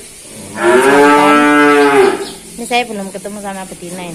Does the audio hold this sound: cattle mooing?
yes